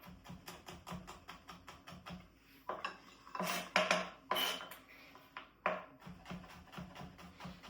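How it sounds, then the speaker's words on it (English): A knife chops onions and garlic on a cutting board with rapid, rhythmic taps. The steady run breaks into a few heavier, irregular strokes, then resumes its quick, even beat, close and clear with no talk. "We're just gonna chop it really fine."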